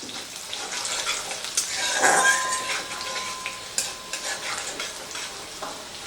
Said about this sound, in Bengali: রসুনটা হালকা ভাজা হবে।